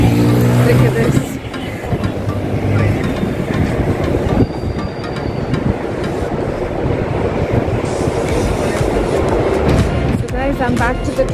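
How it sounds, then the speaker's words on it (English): Busy train station ambience in London's Canary Wharf area, with a train rolling through loudly and steadily alongside a constant crowd and platform hum, and voices heard throughout. "I'm back to the train station."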